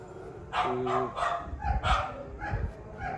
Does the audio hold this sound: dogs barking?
yes